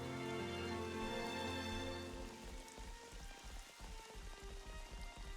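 Steady rain patters in Xenoblade Chronicles 3 beneath a forest canopy, a dense wash of drops over a low music bed, with faint tapping accents in the later seconds.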